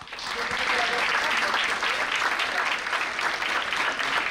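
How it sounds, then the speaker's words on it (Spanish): Steady audience applause fills a conference hall as a speaker on geopolitics reaches the podium, dense and loud throughout without a break. "Un aplauso para él."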